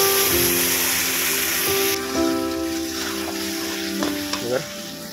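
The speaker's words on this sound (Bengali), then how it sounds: "এবার এটাতে আমি জল দিয়ে দেবো।" Hot fried masala for a Bengali chicken curry sizzles and spatters steadily as water goes into the pan, the hiss easing partway through, with a few clinks and scrapes near the end.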